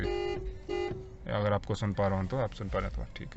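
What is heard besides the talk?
Hyundai i20 car horn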